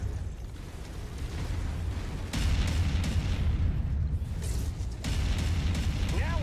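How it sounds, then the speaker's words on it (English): Missile explosions in the video game MechWarrior 5, deep booming blasts rumbling over continuous mechanical noise, with two sharp onsets that swell the low rumble and a brief tonal warble at the end. "Incoming missile. Well, he's shooting at me."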